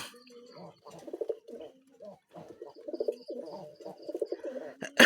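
Several Lakkha pigeons coo near the mic in repeated soft, rolling bursts with short pauses between, a faint chirp or two overhead and a sharp click at the very end.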